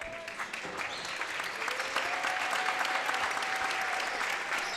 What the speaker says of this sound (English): the seniors here who got the start get a nice round of applause from the Raven faithful